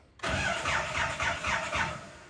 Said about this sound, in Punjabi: ਫਿਰ ਨਿੱਕੇ ਨਿੱਕੇ ਸਲਫ ਮਾਰਨੇ ਆ